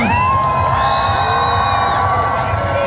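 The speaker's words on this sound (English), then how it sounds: "Belgium, begin some noise, applause, whoop" Comic Con crowd in Brussels at a Stranger Things panel, cheering, whooping and shouting loudly and continuously, with high excited voices close and dense throughout.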